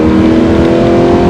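A 2015 Subaru Legacy 3.6 engine drones loudly with a steady, strong hum, sounding like it is pulling hard under acceleration.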